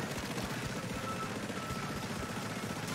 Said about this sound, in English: Just firing shots with the crab.